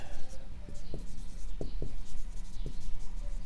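Pen scratches and taps while a binomial expansion is written out, with short strokes and faint scraping under a low background hum.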